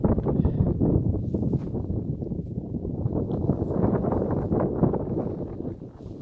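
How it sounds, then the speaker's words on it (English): Steady, blustery wind buffets the microphone throughout, a continuous low rumble with gusty swells and no voices. "one more windy scene"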